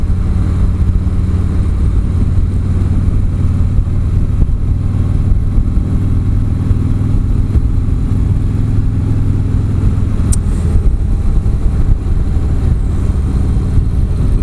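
A 2017 Harley-Davidson Street Glide Special engine runs steadily with a loud, even, low rumble and continuous road-like noise, with no voices heard.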